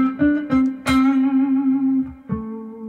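A blues electric guitar note with aggressive vibrato, re-picked several times and sustained in a bright, slightly overdriven tone, with a few short lower plucks between the held notes.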